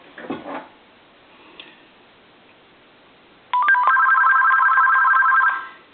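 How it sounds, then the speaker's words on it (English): An AT&T EP9559 cordless telephone rings with a steady electronic warble, starting partway through after a quiet stretch and holding for about two seconds, loud and close. "there's going to be quite a few rings here because it's set for like 4 to 6 rings"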